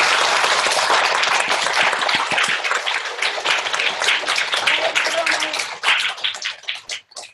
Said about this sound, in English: Let's give the rabbi a big clap.